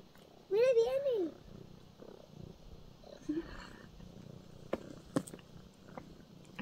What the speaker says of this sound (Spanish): Está todo el tiempo ronroneando.